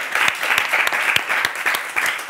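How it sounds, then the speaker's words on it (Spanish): Audience applause during a live comedy dinner show, a lively burst of close clapping with distinct sharp individual claps standing out over the crowd's steady patter. "Un aplauso para la última sección"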